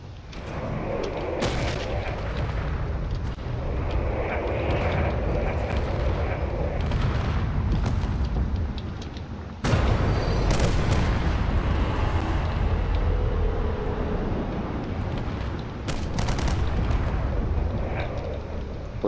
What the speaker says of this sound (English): I believe some of those shots are coming from the Corvette off in the distance.